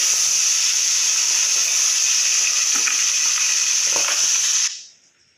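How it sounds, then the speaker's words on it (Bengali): Pomfret pieces fry two at a time in hot oil in a pan, giving a steady, loud, broadband sizzle and hiss that runs unbroken and then cuts off abruptly near the end. "অল্প অল্প করে আমি মাছ এক এক করে ভেজে নিচ্ছি সমস্ত মাছটাই"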